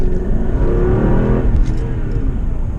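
A Mercedes car accelerating under power, heard from close by as a strong, continuous engine roar over a few seconds, with no one speaking.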